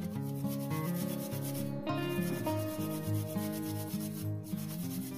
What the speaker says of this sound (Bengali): এবার এখানে দিয়ে দেবো একটু আদা ঘষে